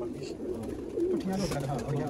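Sialkoti pigeons give soft, low cooing calls at close range, rising and falling over a steady background murmur with faint talk.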